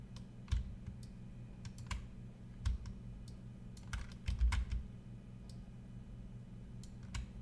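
Computer keyboard typing with scattered mouse clicks while a texture is edited to add team colors for Universe at War, heard as irregular, close, fairly quiet bursts of keystrokes over a steady low hum, with no talking.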